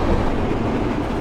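A Golconda Express running between Warangal and Kazipet in an Indian train simulator game, giving a loud, steady rolling rumble of wheels and carriages that continues without a break throughout.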